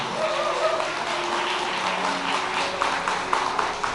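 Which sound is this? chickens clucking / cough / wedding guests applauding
wedding guests applauding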